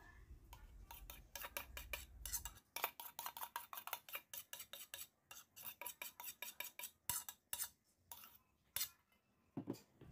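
A utensil stirring melted butter into egg yolk batter in a bowl, a quiet, rhythmic series of soft scraping clinks that follow a brief low rumble at the start.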